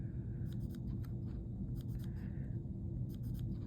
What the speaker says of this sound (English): line up the edge of my ruler. I'm going to put little dash marks